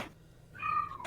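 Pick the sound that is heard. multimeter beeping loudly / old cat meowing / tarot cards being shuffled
old cat meowing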